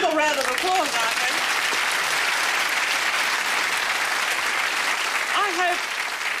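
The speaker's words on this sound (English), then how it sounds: "Oh, a little round of applause, I think." Studio audience on a comedy talk show gives sustained applause, a thick continuous roar of clapping, with a voice's brief exclamations rising above it at the start and near the end.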